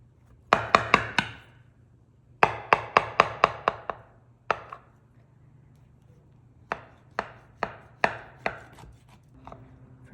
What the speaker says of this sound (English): Go ahead and give this a slice and a taste test.